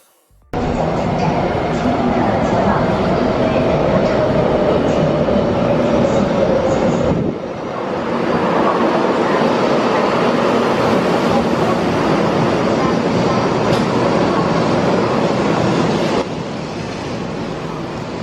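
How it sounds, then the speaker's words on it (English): Interior of a high-speed bullet train running from Taipei to Kaohsiung, Taiwan: a loud, steady rumbling roar of wheels and rushing air, with a slowly falling whine and a brief shift in tone midway. "I took the bullet train to Kaohsiung"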